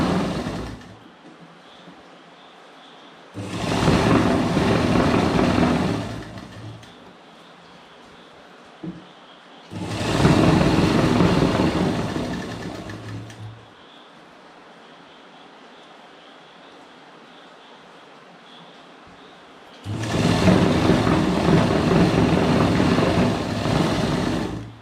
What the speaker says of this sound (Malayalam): ഇതുപോലെ അടുത്ത കാലും തയ്ക്കുക.